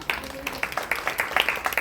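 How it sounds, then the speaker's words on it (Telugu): An audience at a women's church meeting claps in a quick, steady rhythm of distinct sharp claps, close and moderately loud, with a voice faintly underneath. "అందరం గట్టిగా చప్పట్లు కొడదామా?"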